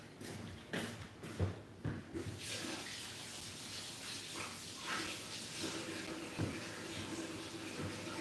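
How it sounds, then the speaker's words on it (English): Water runs from a bathroom faucet as a head of wavy hair is wetted underneath, a steady splashing wash with a few brief knocks and thuds. "I just literally stuck my head under the faucet to save us some time."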